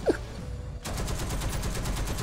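Sustained machine-gun fire rattles loudly in a tank battle video game after a quiet first moment, a dense rapid stream of shots continuing to the end with no talking.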